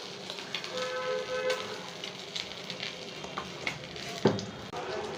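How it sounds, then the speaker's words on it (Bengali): Oil is stirred in a hot wok or kadai just after prawns were fried, giving a soft, steady sizzle with light scraping at moderate distance and no talk. "তেলটাকে ভালো করে নাড়িয়ে নিলাম"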